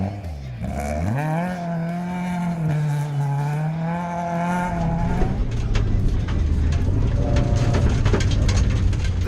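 A classic two-wheel-drive Toyota rally car running a safari rally stage, its engine note climbing and holding loudly before dropping into a rougher rumble, joined by gravel spatter and crackle.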